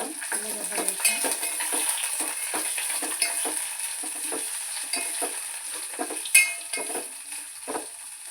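Onions frying in a pan for a Telugu eggplant curry with fresh coconut, giving a steady close sizzle with scattered scrapes and clinks of a stirring spoon over roughly eight seconds, with no talk.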